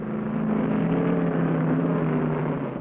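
Stock cars of the 36-car Grand National field rolling off at Riverside Raceway in 1970, a steady, loud blended engine drone with low harmonic hum and no break.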